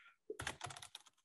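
Rapid keystrokes on a computer keyboard while entering brokerage details into a DocuSign form, a close, steady burst of clicks after a brief higher tone at the start.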